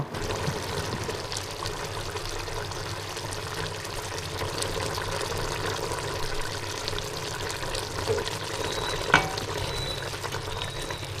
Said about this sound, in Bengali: তামরিমার মা খিচুড়ি রান্না করতেছে ওদেরকে খাওয়ানোর জন্য